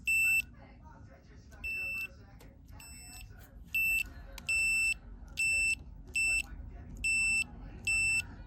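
An electric washer pump switch gives a series of sharp, high electronic test beeps, about nine evenly spaced short tones, loud and close over quiet background, with someone speaking briefly between them.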